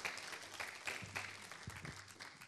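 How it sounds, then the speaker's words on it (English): Audience in a church fellowship gathering breaks into a round of applause, a dense crackle of many hands clapping that holds steady and fairly soft throughout, with no talk over it. "let's give Mike and Linda a round of applause for what they did"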